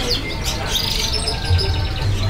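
Several canaries chirp and trill in quick overlapping bursts, high and bright over a steady low hum, at a bird market kiosk, with no talking.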